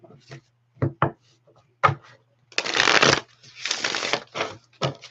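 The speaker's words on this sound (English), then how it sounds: "One card for my moderators. I get a real good shuffle, honey." Tarot cards riffled and shuffled by hand in a few brisk bursts, with sharp taps of the deck between the longer rustling runs; a woman's brief speech comes at the start.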